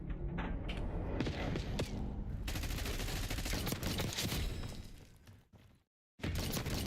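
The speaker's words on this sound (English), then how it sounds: "Yeah, that's an awesome shotgun." Rapid gunfire from an automatic shotgun in Black Ops 6, a dense continuous barrage of loud blasts and crashes that fades before cutting to silence and resuming briefly.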